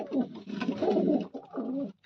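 Pigeons coo steadily and fairly close, a low, throaty burbling that runs almost the whole time with only brief breaks.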